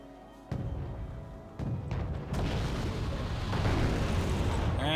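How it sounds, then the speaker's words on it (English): In the video game Wargame Red Dragon, mortar fire and explosions boom, a couple of sharp thumps giving way to a sustained heavy rumble of blasts that swells louder toward the end, with no talk. "Look at that, that's a mortar."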